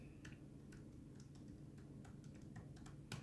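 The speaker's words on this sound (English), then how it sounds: "I just typed in my password." A password is typed on a computer keyboard, a quiet irregular run of soft key clicks over a low background hum, with a slightly louder tap at the end.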